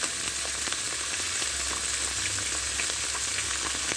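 Fish spits and sizzles in a hot pan, making a steady, dense frying crackle with small pops, close by, with no talking.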